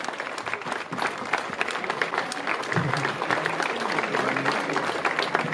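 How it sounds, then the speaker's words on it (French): Audience at an inauguration of an outdoor summer night event applauding steadily, a dense continuous roar of clapping at moderate distance with a few voices mixed in, lasting throughout. "Donc, on peut encore l'applaudir parce que c'est incroyable qu'elle fait."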